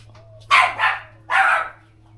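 A dog barks twice in quick succession and then once more, loud and close, beside a 1937 Ford Coupe hot rod, with a steady low hum underneath.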